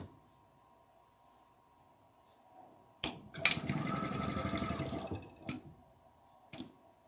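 A sewing machine stitches a flying geese quilt unit in one burst of about two seconds, a fast buzzing run of needle strokes. Sharp clicks come before and after it, and the room is otherwise quiet.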